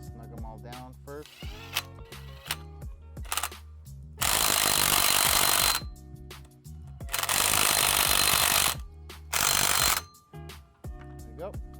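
Power ratchet bursts snugging down flywheel bolts on a 2JZ-GTE engine in a Lexus IS300 drift build, three loud buzzing runs of a few seconds each separated by quieter clicking and shop handling noise.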